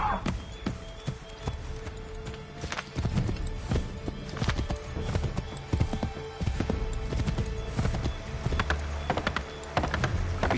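Horse hooves galloping in Assassin's Creed 3, a steady rapid clip-clop with a brief whinny, mixed with in-game ambience and occasional voices.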